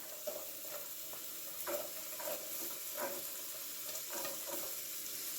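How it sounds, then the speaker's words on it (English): Carrots go into a hot pan of chicken and rice, raising a steady close sizzle broken by repeated scraping stirs. "I'm going to add my carrots in here"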